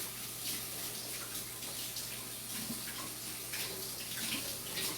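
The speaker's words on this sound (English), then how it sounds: "I'm just going to rinse my hand real quick" Tap water runs steadily into a kitchen sink as hands are rinsed during soup making, a close, even hiss with faint splashes and no talking.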